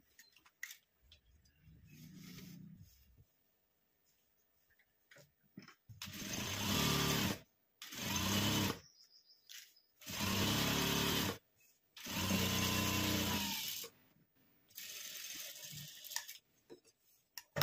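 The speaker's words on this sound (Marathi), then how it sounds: "तर आता आपण याला सगळीकडून टिप मारून घेऊया आता" A sewing machine stitching along the edges of a piece of cloth, running in four or five loud bursts of a few seconds each, separated by short pauses, with no talk.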